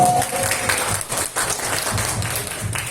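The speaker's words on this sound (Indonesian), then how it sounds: "Kita kasih tepuk tangan yang meriah dong." Applause from an audience at a mental health campaign talk in Indonesia, a dense steady wash of clapping sustained at moderate loudness throughout, with faint voices underneath.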